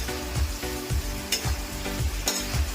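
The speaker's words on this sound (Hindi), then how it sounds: "देखिए यहाँ पे चिकन भुना रहा है, इसको अच्छा से चला देते हैं" Chicken sizzles steadily in a hot pan while being stirred, with a spoon scraping in regular rhythmic strokes about every half second over the constant frying hiss, close and fairly loud.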